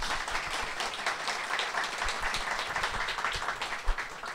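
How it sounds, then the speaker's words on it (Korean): Audience applause at a Korean talk show event, dense and even clapping from a moderate crowd with scattered sharper individual claps, continuing for several seconds with no talking. "박수 주십시오."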